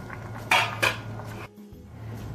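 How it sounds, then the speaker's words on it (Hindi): Boiled chickpeas are tipped into a pot of chicken for Lahori murgh chanay, with two sharp clanks of a metal utensil against the pot over a low steady hum, then a brief hush. "हम चनों को ये चिकन में ऐड कर देंगे"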